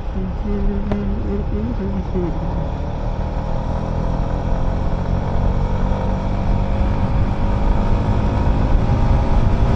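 Yamaha MT15 motorcycle cruising on a highway in high gear near 120 km/h: a constant roar of wind buffeting and steady engine drone, loud and unbroken throughout.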